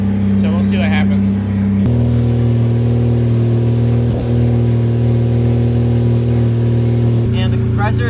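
A Mazda RX8 rotary engine idles with its AC compressor engaged, giving a steady hum that steps up in pitch and loudness as the compressor kicks in, with talk before and after.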